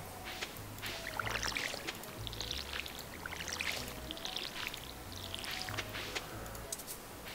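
A watering can sprinkles crops in Stardew Valley, with a series of short, soft, splashy pours repeating at a steady pace over low background music.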